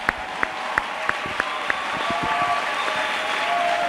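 A church congregation bursts into applause, dense clapping swelling into a sustained roar of many hands, with a few sharp isolated claps at the start before the crowd joins in.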